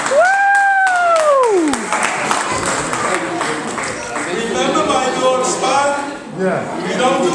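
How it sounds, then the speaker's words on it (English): Audience applause at a Purim feast magic show, steady clapping and crowd noise running throughout under loud talking and a sliding whistle-like tone near the start. "Give her a nice round of applause and help it out."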